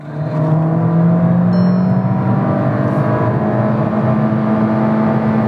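Skoda Kushaq Monte Carlo with the 1.5 TSI EVO engine pulls hard through the gears from inside the cabin, a steady loud engine drone with a rising tone that holds throughout.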